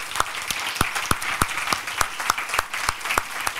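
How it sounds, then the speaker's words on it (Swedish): Warm audience applause at the close of a seminar on climate, peace and security, a dense steady patter of many hands with a few crisp nearby claps punctuating it, sustained without talk. "Ett stort tack och en varm applåd till våra deltagare."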